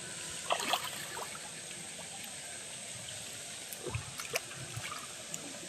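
Water being let out into a fishing pond at a Howrah fishing club, heard as a faint, steady trickling flow with a few soft splashes and no voices.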